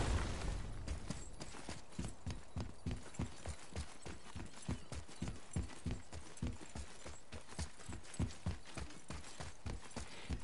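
Horse hooves clip-clop in a steady, even rhythm while riding in the PS4 game God of War. The sound is fairly faint, with no talking.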